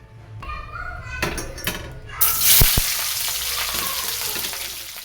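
Capsicum hits hot oil in a pan for chilli paneer, bursting into a loud sizzle after a few clatters and knocks, then settling into a steady close frying hiss.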